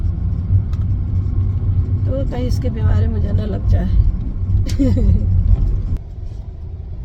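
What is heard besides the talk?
car interior while driving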